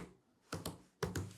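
Two quick pairs of keystrokes tapped on a computer keyboard while entering settings in an API tutorial, crisp and close, with short pauses between them and no talking.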